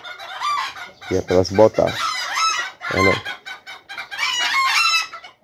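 Bantam chickens on a farm cluck and crow loudly and close, with a run of rhythmic clucks and a rooster-like crow among the birds, while a person speaks Portuguese over them.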